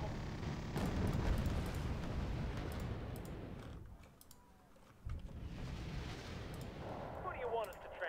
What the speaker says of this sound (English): Do an airstrike on those.